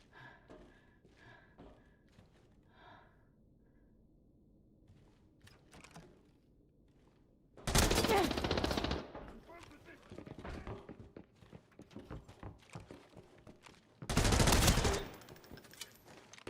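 Machine-gun fire in a video game, two loud sustained bursts of rapid automatic shots a few seconds apart over quieter in-game clatter and footsteps.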